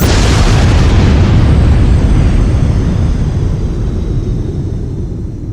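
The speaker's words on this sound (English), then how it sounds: "Oh no, Tom, your head just exploded." A comedic head-explosion sound effect: a loud, full boom that starts at once, then rumbles on for several seconds as a long, slowly fading roar, with no voices.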